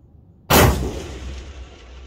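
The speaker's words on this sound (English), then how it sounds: "I'm going to shoot that middle large silhouette" A single loud rifle shot from a Bergara B-14 HMR firing a 168-grain match round at a large steel silhouette at range, with a sharp crack and a long rolling echo that fades slowly.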